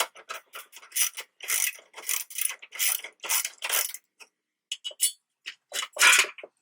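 A hand ratchet loosens the headlight mounting bolts on a Honda Accord during a headlight swap, with rapid metallic clicking in close bursts separated by short pauses.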